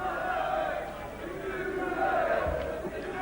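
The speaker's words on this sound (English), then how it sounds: "The crowd, once again, trying to lift the local boy, inspire him to a stoppage victory." Middleweight boxing crowd at a Chris Eubank fight, chanting and roaring to lift the local fighter, a sustained loud mass of voices with rising, wavering shouts throughout.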